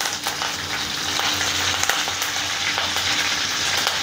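Curry leaves dropped into hot oil for matki misal crackle and sizzle loudly and steadily, with sharp pops and stirring noises, no voices present.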